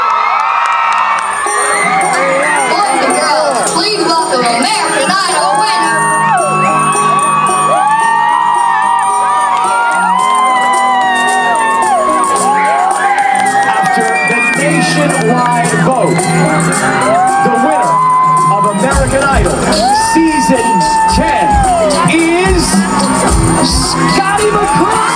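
A large crowd cheers, whoops and shouts at a country concert in Temecula, loud and continuous, with excited shrieks rising and falling across the whole stretch.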